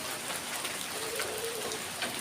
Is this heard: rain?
yes